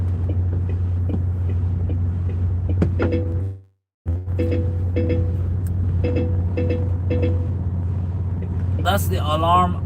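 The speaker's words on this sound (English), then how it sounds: "That's the alarm of a crap truck." A MAN truck's low air pressure warning alarm sounds as a steady low buzzing tone under a rapid repeating beep pattern. It cuts out briefly and then resumes, and a hiss comes near the end.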